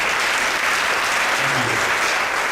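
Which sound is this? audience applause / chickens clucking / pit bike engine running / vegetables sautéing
audience applause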